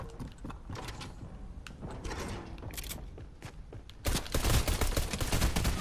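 Fortnite gunfire, including a shotgun, with scattered sharp shots and mechanical clacks that build into a louder, dense burst of rapid firing near the end.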